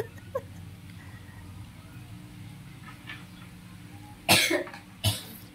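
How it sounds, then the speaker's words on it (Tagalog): Two short, sharp coughs come late, one right after the other, over a low steady background hum, with no talking in between. "may mga ubo"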